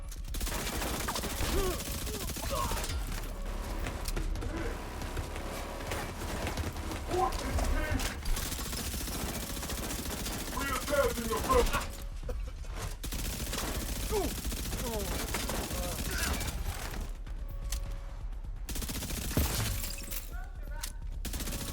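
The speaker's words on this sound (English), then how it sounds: "Shooting at the UAV now!" Gunfire aimed at a UAV in The Division 2, a dense, continuous clatter of shots and impacts running throughout over a busy game soundscape, with voices talking at times.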